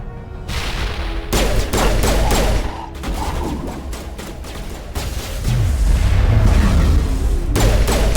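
Grenade blasts and bursts of gunfire in the Mass Effect video game on PS4, loud repeated sharp shots and booms crackling in clusters with short gaps, a heavier rumbling blast near the end.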